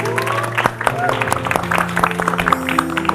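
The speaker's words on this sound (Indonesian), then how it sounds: "boleh tepuk tangan lagi yuk" A studio audience claps on a Indonesian talk show, a scattered round of applause with voices and background sounds mixed in over a few seconds.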